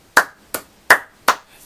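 Slow, deliberate hand claps ring out four times at an even pace, crisp and close, as Triple H arrives at the ring with Stephanie McMahon at the 2013 Survivor Series wrestling event.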